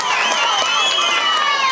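An audience at a puberty celebration's music programme claps and cheers in a dense, steady wash of applause, with excited children's shouts mixed through it.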